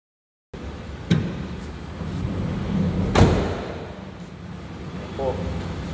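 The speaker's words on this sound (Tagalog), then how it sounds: "Ang pinto po nito ay slide." The sliding door of a Hyundai Staria van rolls along its track with thumps and a brief clunk, close by, under steady background noise and someone talking.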